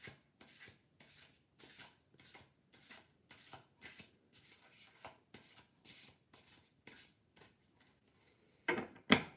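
Tarot cards are shuffled by hand in a quiet room: a regular series of soft, brushing riffles about every half second, then a few louder handling sounds at the end as cards are pulled.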